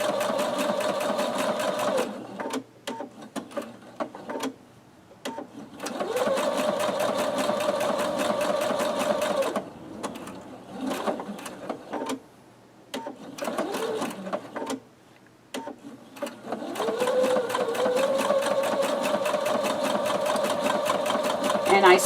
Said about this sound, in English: And I sew back over where I started.